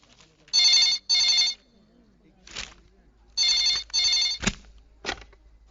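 A telephone rings in two double bursts, a bright trilling bell separated by pauses, with faint clicks and brief voices between rings.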